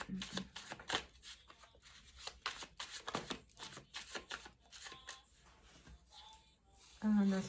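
Close, soft riffling and flicking of tarot cards being shuffled in a rapid run of bursts, with a brief voice at the end.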